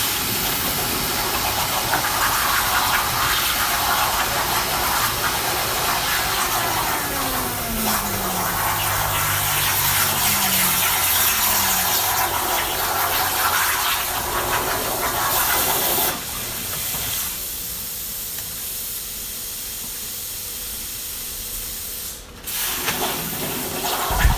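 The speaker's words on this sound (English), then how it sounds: "that shop vac does a great job. It sucked the water right out of there" A shop vac sucks up floodwater in a fabrication shop, a loud steady roar with gurgling that runs for most of the stretch before the motor note drops and it cuts off near the end.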